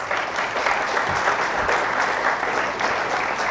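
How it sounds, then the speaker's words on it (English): An audience at an academic event applauds warmly, a dense, steady wash of clapping from many hands that holds evenly throughout. "they deserve a huge, huge round of applause"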